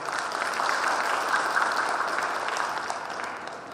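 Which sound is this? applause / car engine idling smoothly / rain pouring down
applause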